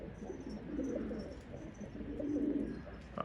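Pigeons cooing near a rooftop loft in snowy weather, soft repeated low coos rising and falling across the stretch with a faint higher chirp above, no voices.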